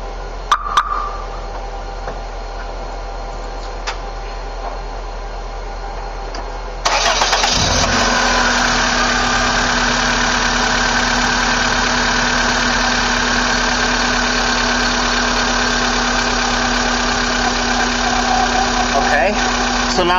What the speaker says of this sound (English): I'm going to go start up the car, and we're going to see how the voltage changes